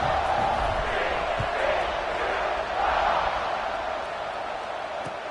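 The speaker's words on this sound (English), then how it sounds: "this crowd is buzzing after that last score." Stadium crowd buzzing in an LSU college football video game, a broad, continuous roar with swells of cheering, steady and fairly loud.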